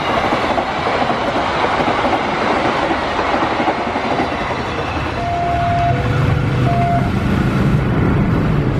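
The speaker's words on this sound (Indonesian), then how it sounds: "Ini dia lokomotif uji coba Purwosari Lempuyangan" A test-run locomotive train passing through Srowot station in Indonesia, a loud, continuous rumble and rattle of rail cars close by, with brief tonal whines or squeals midway.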